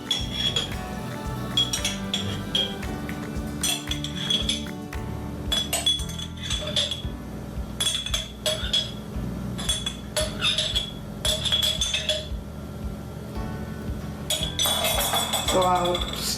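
Breadfruit salad with sweet relish is stirred and folded in a bowl, a close series of clinks and scrapes in uneven bursts that grow busier toward the end.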